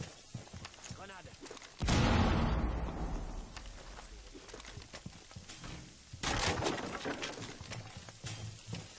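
In a video game, a grenade blast bursts in abruptly with a broad, loud roar that slowly fades, followed later by a second burst of noisy gunfire-like crackle, with speech audible in between.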